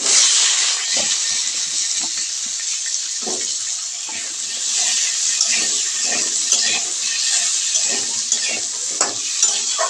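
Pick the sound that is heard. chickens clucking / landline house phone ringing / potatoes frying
potatoes frying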